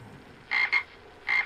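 A human voice imitates a frog's croak, saying a short two-part ribbit and then one more, each burst close and clear against quiet, during a Disney Lorcana card game.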